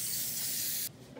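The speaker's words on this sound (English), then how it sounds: "First thing we're going to spray this" Cooking spray hisses onto a skillet for a pancake recipe, one steady, loud, close burst of just under a second that then cuts off, with no talking.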